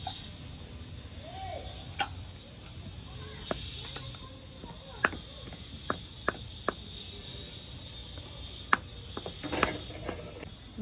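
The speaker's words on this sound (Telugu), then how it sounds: "అట్ట పప్పు గుత్తిత రుబ్బు." A wooden masher knocks against a pot of soft cooked dal in sparse, sharp taps at irregular intervals, fairly faint over a steady background hiss.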